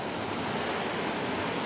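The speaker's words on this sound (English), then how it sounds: "Listen to the waves." Ocean waves heard from the deck of a new cruise ship at sea make a steady, broad wash of surf that stays even throughout, mixed with some wind and no voices.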